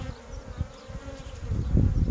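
Honeybees buzz at an opened hive housing two queens. The hum is a dense, close, continuous drone that swells louder toward the end, with no voices.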